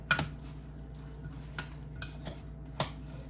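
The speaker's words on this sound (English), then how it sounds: "go ahead and mix my coleslaw in my big old bowl here" A big bowl of shredded coleslaw mix being stirred, a few sharp utensil clinks against the bowl at irregular intervals over a low steady background hum, with no talking.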